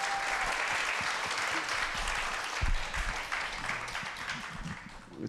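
A large audience applauds at a Buddhist monk's talk on health and diet, calling for a final song; broad, sustained clapping at moderate loudness, with a few louder individual claps near the middle.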